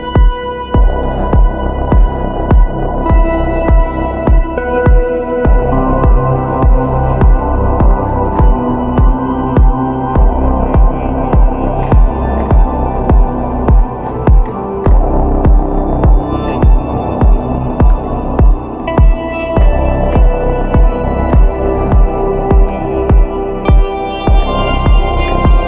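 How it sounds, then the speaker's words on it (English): Deep techno synth drenched in a big-room reverb preset, a steady low throbbing pulse with layered sustained tones and regular rhythmic hits, loud and washy throughout with no talking. "put like a big reverb, silver reverb here with my grandiose preset, a really big room, really trippy"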